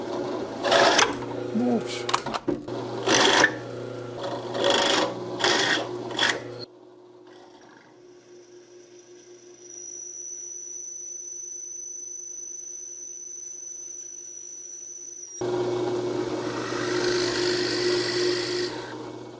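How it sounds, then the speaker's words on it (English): A drill bores holes in hammer parts, first a small starting hole and then a larger bit. Its steady whine runs through the middle and louder later on, with close scraping and rattling at the start and a brief spoken exclamation. "now that I have the holes drilled in both these parts"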